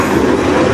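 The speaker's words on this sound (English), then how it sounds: "this train here could be cutting over there going into track 2" A freight train rolls along a railway track on a subdivision line, a steady, dense, rumbling roar that holds at constant loudness without a break.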